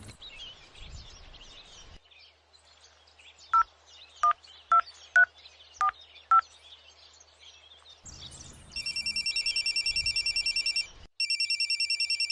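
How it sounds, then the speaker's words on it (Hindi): Six distinct keypad beeps dial a number in an uneven rhythm, then a rapid electronic ringing tone repeats twice, clear and close in a quiet room. "पहले लाला को फोन तो कर लूं,"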